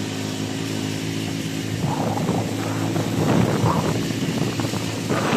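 A laboring engine drones steadily in a rural countryside setting, its rough, buzzing note straining and surging slightly midway, close and fairly loud with some wind rumble.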